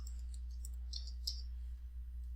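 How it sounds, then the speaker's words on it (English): A few faint, sharp mouse clicks while working on a web page in Dreamweaver, set over a steady low electrical hum. "I can even click on the image"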